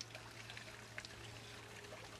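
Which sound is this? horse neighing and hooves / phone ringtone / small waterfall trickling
small waterfall trickling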